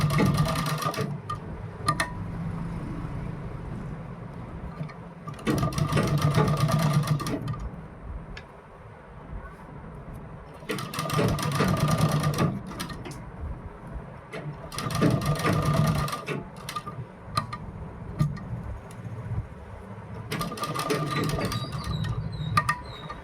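Long basting stitches are run on a sewing machine around a kurti neckline, in several sustained whirring bursts separated by quieter pauses of handling the fabric.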